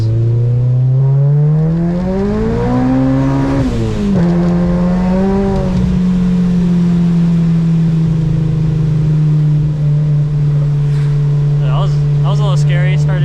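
A 400hp Acura RSX ploughs through flood water during a hurricane, its engine droning steadily close by, revving up and dipping, with voices talking over it.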